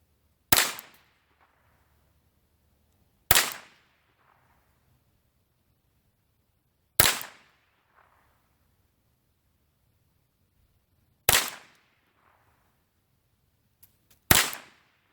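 Five sharp, loud single shots from a Ruger rifle fed by a BX-25 magazine, spaced a few seconds apart with quiet between, each cracking then fading quickly.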